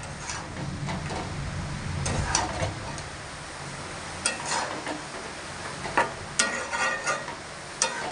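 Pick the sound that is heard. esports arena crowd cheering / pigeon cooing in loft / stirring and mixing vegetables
stirring and mixing vegetables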